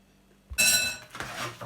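A fork clinks against a plate while eating a fresh vegetable salad, one bright ringing chink followed by a softer scrape, close and brief with no voices.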